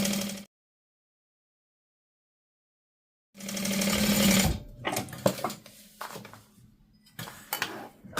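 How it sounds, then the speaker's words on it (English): A sewing machine runs in a steady close buzzing burst as it backstitches fabric, then stops, followed by scattered handling clicks and rustles of the material. "So I'm just going to backstitch and give this a stitch."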